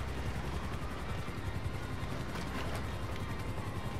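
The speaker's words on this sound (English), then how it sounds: "Oh, helicopter." A steady, loud rotor drone of a helicopter in Grand Theft Auto V, with constant broadband rumble, no voices, continuous throughout.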